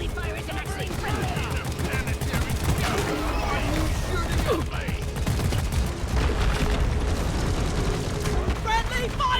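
Dense, continuous gunfire from Deep Rock Galactic, with overlapping bursts and booms throughout a chaotic horde fight while players shout over the noise.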